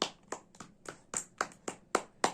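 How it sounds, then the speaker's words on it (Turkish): Eight or nine separate hand claps come at a steady, slightly uneven pace, close and fairly loud with quiet gaps between them. "Alkış."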